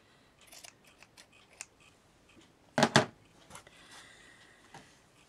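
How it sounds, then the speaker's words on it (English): Scissors snip through a strip of elastic for a handmade mini belly band, a couple of light clicks followed by a louder double snap near the middle, close and alone in a quiet room. "So I'm going to cut my elastic about there."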